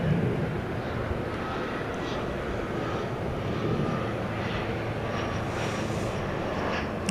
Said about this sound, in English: Making its way to Seattle is American Flight 2003. It is an Airbus A321.